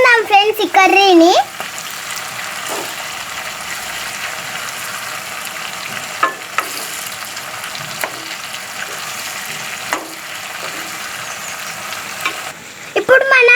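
Capsicum curry frying and sizzling steadily in a pan while being stirred, with occasional scraping clicks; a voice speaks briefly at the start and end.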